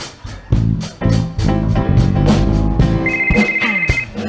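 A cell phone ringtone plays as a rhythmic, repeating ring with a bright tone, opening a musical turn-off-your-phones reminder during a church Sunday service, without talk over it.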